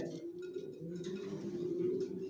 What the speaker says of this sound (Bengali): Original black checker Maksi down শেপের নর বাচ্চা করছে, নতুন বাচ্চা নিয়ে বসা আছে।